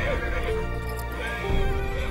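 A horse whinnies loudly and close, the call rising and falling over a couple of seconds amid hoof clatter and background stirring, during a nomadic trek across the steppe.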